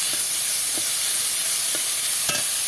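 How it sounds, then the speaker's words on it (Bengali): Onion, garlic and ginger paste with bay leaf and cumin frying in hot oil, giving a steady close sizzle with a few soft stirring scrapes. "এই মশলাটা একটু কষিয়ে নিতে হবে"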